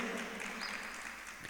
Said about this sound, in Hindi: जोरदार ताली बजाएं इस बहू के लिए